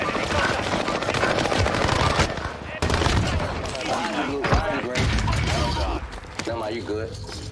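EM2 rifle firing in Warzone on Fortune's Keep: dense, rapid bursts of loud gunfire with mechanical clatter, breaking off briefly a few times, mixed with game voices and other battle noise.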